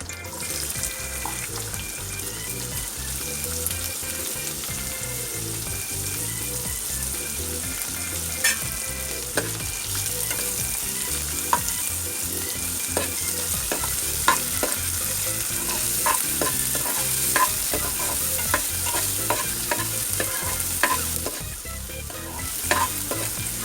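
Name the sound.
onion frying and being stirred in pan with cumin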